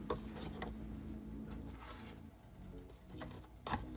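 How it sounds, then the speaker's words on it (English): Spatula scraping the sides and bottom of a mixing bowl of lemon cream cheese pound cake batter, close rasping strokes with light clinks and rubbing, continuing at a steady pace. "We're going to scrape down the sides and bottom of the bowl again."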